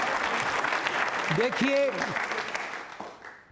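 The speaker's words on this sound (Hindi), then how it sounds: "तालियां जोरों से बजाइए आपके लिए" At a quiz show for trainee state civil services officers, the audience claps steadily while someone speaks over it. The applause fades away toward the end.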